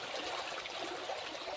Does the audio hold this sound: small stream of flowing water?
yes